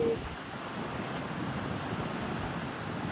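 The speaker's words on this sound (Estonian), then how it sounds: "Vaata seda lainet nüüd." Ocean waves rolling in and breaking, a soft continuous wash of surf with wind noise in the background, fairly faint and steady.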